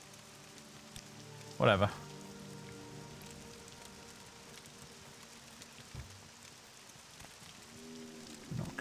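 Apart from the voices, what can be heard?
rain in the video game Morrowind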